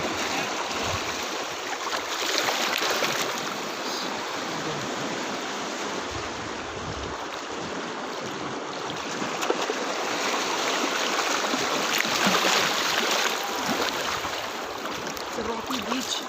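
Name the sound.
waves on a rocky beach in Goa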